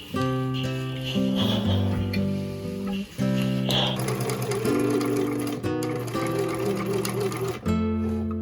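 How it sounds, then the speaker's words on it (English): Sewing machine stitching kimono fabric into wide pant legs, a loud continuous mechanical whir with fast rhythmic needle ticking and brief pauses between runs. "Here I'm sewing everything together into giant pant legs"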